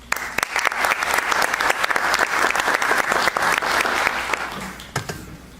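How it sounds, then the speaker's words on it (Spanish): An audience at a university lecture event applauds, with dense, even clapping that fills the room for several seconds before thinning out into a few scattered final claps. "Recibámoslo con un fuerte aplauso."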